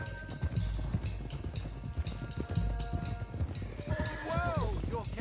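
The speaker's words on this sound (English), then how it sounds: "let's get these horses to Clemens Cove quick before we run into any more trouble" Horses in Red Dead Redemption 2 gallop with steady, close hoofbeats under a speaking voice, and a horse whinnies loudly near the end.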